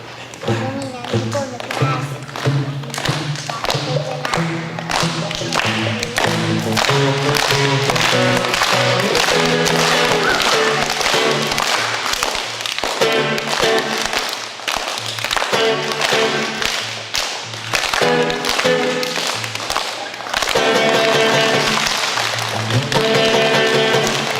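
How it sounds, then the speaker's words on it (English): A school audience claps along in rhythm with a live acoustic guitar performance at St. Joseph's, the steady loud clapping running throughout, rising and softening with the strumming. "When the guitar is quiet, you clap real quiet. Or when the guitar is loud, you clap loudly."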